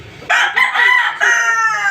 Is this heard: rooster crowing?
yes